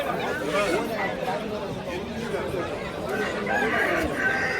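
A rooster crows amid the busy hubbub of a rooster market, its call rising over steady crowd chatter and nearby voices talking, with clucking birds mixed into the background.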